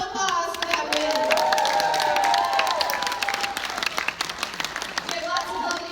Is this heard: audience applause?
yes